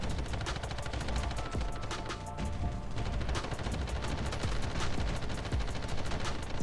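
Dense, continuous automatic gunfire from shooting zombies in the Call of Duty Mobile Undead Siege hard mode, rapid overlapping shots and impacts filling the whole stretch at a steady loud level without speech.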